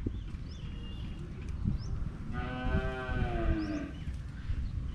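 A Kajali Khillar bull from the Sangola area gives one long, drawn-out moo in the middle, fairly close, with faint bird chirps in the quiet outdoor background and no speech.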